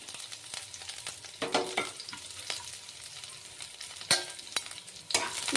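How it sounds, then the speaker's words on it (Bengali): Chopped garlic fries in hot oil in a kadai while being stirred for a leafy-greens stir-fry, a close, continuous sizzle broken by bursts of spatula scraping, with no talk. "তেল গরম হলো, তাতে আমি রসুন কুচিগুলি দিয়ে দিচ্ছি।"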